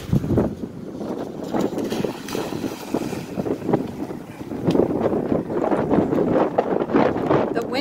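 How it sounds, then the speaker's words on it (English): Strong wind at a beach buffets the microphone with loud, continuous roaring gusts that swell and fade, with faint voices partly buried beneath. "The wind is so loud you can't hear me."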